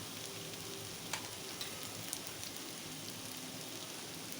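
Ivy gourd fries in a pan with garlic and ground spice powder, a soft, continuous sizzle and crackle with a few faint clicks of stirring.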